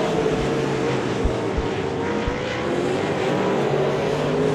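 Race cars circle the Devil's Bowl Speedway track, a continuous buzzing engine drone at moderate distance, steady throughout with a few faint low thumps and no talk.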